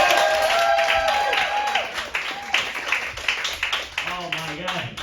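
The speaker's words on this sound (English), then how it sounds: "Please start clapping for this next comic coming on the stage." A comedy club audience claps for a comedian coming onstage, a brief burst of scattered applause that thins out while someone keeps talking over it.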